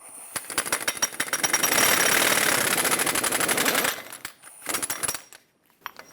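Rapid hammering rattle of an impact wrench spinning off the axle nut on a 2003-2009 Dodge Ram 2500 during a ball joint job, one long sustained burst followed by a few shorter bursts, close and loud with no talk.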